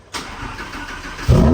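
A Lamborghini V10 Performante cranks with a brief starter whir, then the V10 catches and bursts into a loud, deep, close-up roar at the end.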